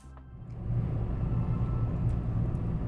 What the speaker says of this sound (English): The vehicle's running right now.